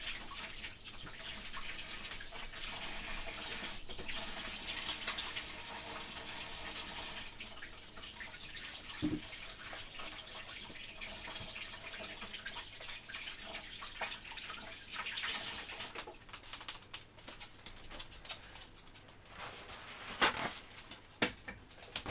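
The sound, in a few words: washing hands under running tap water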